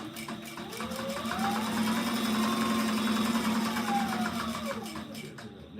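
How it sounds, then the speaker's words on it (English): A sewing machine runs steadily as it stitches a zipper onto edge tape, its rapid mechanical whir ramping up, holding an even drone for several seconds, then slowing near the end, close and moderately quiet. "And then we'll sew the zipper onto that."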